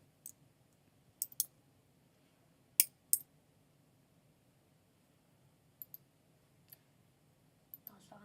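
Sparse, faint keyboard clicks as a surname is typed, coming in small isolated bursts and single taps over a quiet background with a soft hum.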